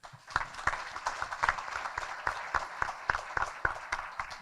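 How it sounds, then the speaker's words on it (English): A crowd at a State of the City chamber event claps for the outgoing mayor, sparse individual hand claps spaced through a moderate room, fairly quiet and steady with no talk over it. "Let's give him a round of applause."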